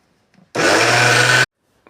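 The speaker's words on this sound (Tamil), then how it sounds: "மிக்ஸியில் கிரைண்ட் பண்ண போகிறாங்க பாருங்கள்" A kitchen mixer grinder spins soaked rice for idli batter in one short, loud burst of under a second, a harsh whirring grind that starts and stops abruptly against near silence.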